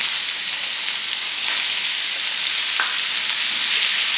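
Small-chopped beetroot frying in oil for beetroot chammanthi, a loud, dense, continuous hissing sizzle with a couple of faint clinks from a utensil.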